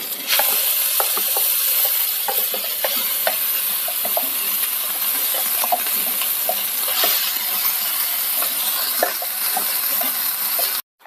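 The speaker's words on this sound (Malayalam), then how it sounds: "അതിലേക്ക് നമ്മൾ അരച്ച് വെച്ചിരിക്കുന്ന അരപ്പ് ചേർക്കാം." Ground spice paste frying with sautéed onions for a red chicken curry, a steady close sizzle with repeated stirring scrapes throughout, no voices.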